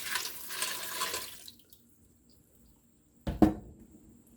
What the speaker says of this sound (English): Then I'm going to add 1 cup of water.